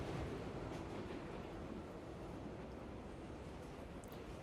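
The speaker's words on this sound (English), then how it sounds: "the train makes its way through the darkness. The car creaks around me." A train car rolling through darkness in the game Tsukihime, a faint, steady rumbling roll with a soft continuous hiss and occasional light creaks, distant and low throughout.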